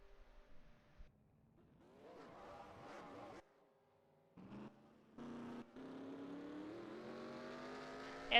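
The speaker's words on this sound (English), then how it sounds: "As the cars are coming off pit lane, Tommy Bordeaux is going to win the race" Race cars in a NASCAR-style series at New Hampshire pull off pit lane with rising engine revs, the whine building steadily and staying loud toward the end after a few short bursts and gaps.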